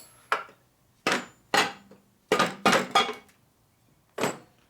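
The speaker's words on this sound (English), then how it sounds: "That's what you brought the mallet for." Sharp knocking impacts of a mallet on Harley-Davidson Shovelhead engine cam case parts, about seven in irregular bursts with quiet gaps, close by with no voices.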